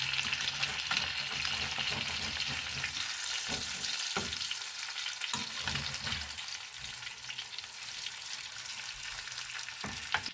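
Chicken pieces sizzle loudly in a frying pan with a dense, continuous crackle as they are flipped, a few soft thumps and scrapes breaking through the steady hiss.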